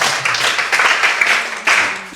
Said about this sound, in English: Now clap for her.